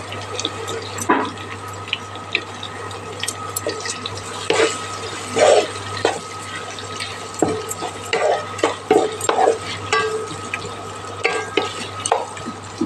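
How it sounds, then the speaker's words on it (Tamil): Onions tipped into a hot frying pan with green chillies for parotta salna, giving a soft continuous sizzle with scattered clicks and scrapes of stirring, fairly close and moderate, over a steady low hum. "இப்போ வந்து வெங்காயம் போட்டுக்கலாம்."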